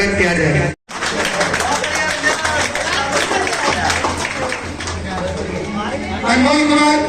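At an award ceremony for Nag Defence Academy in Muzaffarpur, a crowd gives a loud, sustained burst of applause, dense clapping filling most of the stretch after a brief announcement, with a voice speaking again near the end.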